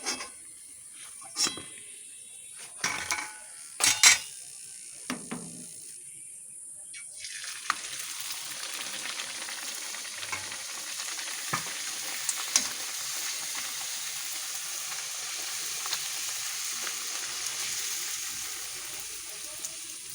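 Large luchi flatbreads deep-fry in a hot kadai. A few sharp clatters and splashes come first, then a long, steady hiss of bubbling oil.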